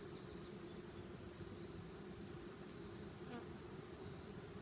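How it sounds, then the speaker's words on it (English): Honeybees buzzing steadily inside a hive during a late-August colony inspection, a dense continuous hum close by with no speech. "So I've got bees in here."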